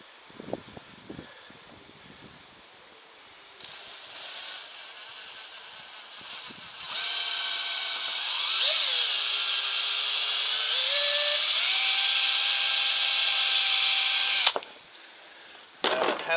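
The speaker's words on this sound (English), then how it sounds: "let's see how this gets going with drilling a hole" A power drill bores a hole in wood outdoors, its motor whining steadily for several seconds with pitch shifts as it bites, after some faint handling knocks, then cutting off abruptly.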